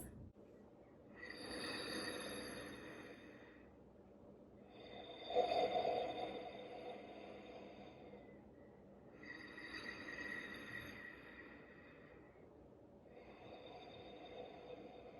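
Ujjayi breathing with a constricted throat draws air in and out through the nose, making soft, close, rasping whooshes like ocean waves in slow alternating breaths, each lasting a few seconds.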